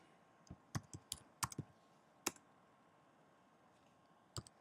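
Someone types a URL into a browser on a computer keyboard: a handful of sharp, close keystroke clicks in short irregular bursts, then a pause and one last click, over a quiet room.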